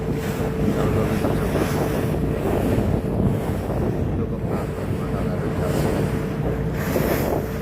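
A boat travels over the open sea off Italy, its steady engine drone mixed with rushing water, waves and wind buffeting the microphone, continuous and loud throughout.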